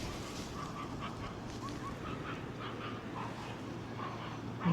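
A dog on a beach by a pier gives soft, intermittent yips and barks at a distance over steady wind and surf noise, with one louder burst at the end.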